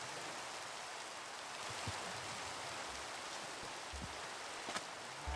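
Steady rain falls in a Minecraft jungle, a soft continuous hiss with faint scattered drops, quiet and even with no other sounds.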